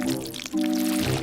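Chocolate paste pours into a cardboard box in a box-fort prison escape scene, a steady, close, syrupy pouring sound that briefly falters midway and then resumes at full strength.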